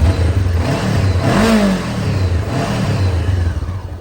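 A 2016 Honda CBR500R motorcycle engine revs up loudly nearby, rising to a high whine before settling back to a steady idle rumble.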